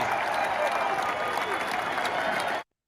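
A college basketball crowd at a Boise State win over Santa Clara claps and cheers loudly in a dense, sustained wash of applause that cuts off abruptly at the end.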